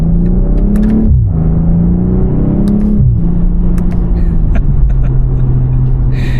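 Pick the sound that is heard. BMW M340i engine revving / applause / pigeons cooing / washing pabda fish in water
BMW M340i engine revving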